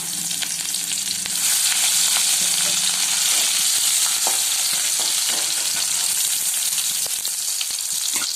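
Crushed onion and fennel fry in hot oil in a home kitchen while dried-fish curry is being made, giving a loud, steady sizzle with occasional stirring scrapes throughout.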